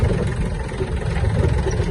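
A Yanmar AF-24 Japanese mini tractor's small engine runs at a steady idle, a close, continuous low chug with no voices.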